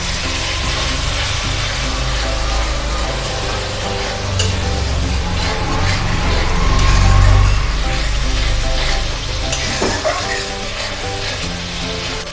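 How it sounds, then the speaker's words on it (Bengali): Spice masala loosened with a little water is sautéed and stirred in a pan for a salmon fish curry. A loud, continuous sizzle rumbles under occasional scraping stirs. "এগুলো দিয়ে ভালোভাবে মশলাটাকে কষে নেব। একটু জল দিয়ে ভালোভাবে কষে নেব।"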